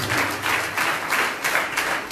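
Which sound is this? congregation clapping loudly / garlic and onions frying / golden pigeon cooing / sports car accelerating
congregation clapping loudly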